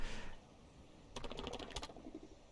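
A short burst of rapid clicks from a computer keyboard as keys are pressed in quick succession, close and fairly quiet, with no talking.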